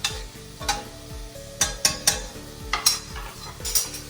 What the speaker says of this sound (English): So this is sweating the onion, making it sweet.